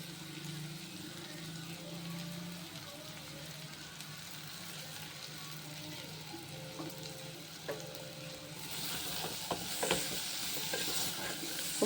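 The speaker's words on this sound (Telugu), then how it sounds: "ఆనియన్ కొంచెం ఫ్రై అయిన తర్వాత మనం ఇందాక కట్ చేసి పెట్టుకున్న బంగాళదుంప వేసుకుందాం." Cut potatoes frying with onions in a pan for aloo curry, a soft continuous sizzle with a low hum underneath, growing louder and brighter toward the end as stirring clatters and scrapes join in.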